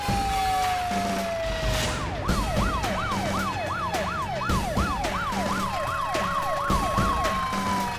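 An arriving Mumbai police car sounds a long rising wail that switches into a rapid repeating yelp, close and loud over low road rumble.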